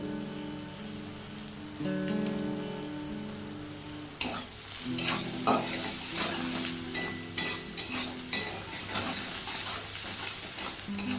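Drumstick leaves frying in a pan give a steady crackling sizzle that swells sharply midway into dense popping and spitting with scattered stirring clatters, close and alone without talk.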